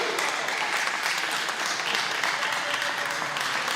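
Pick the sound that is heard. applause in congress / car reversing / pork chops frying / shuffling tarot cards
applause in congress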